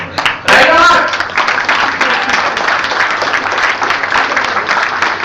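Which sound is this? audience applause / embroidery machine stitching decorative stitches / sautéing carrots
audience applause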